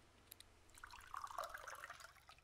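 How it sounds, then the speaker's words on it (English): Water poured from a watering can onto a plant in the video game Mon Bazou, a soft splashing trickle that swells and fades over a couple of seconds, quiet and without speech. "I'll water this plant."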